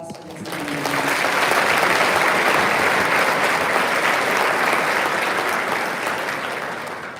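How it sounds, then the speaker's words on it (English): Audience applause for award nominees at an awards ceremony swells within a second into a dense, steady roar of many hands, holding for several seconds before tapering off, with faint voices at the start. "Let's have a round of applause for this nominees."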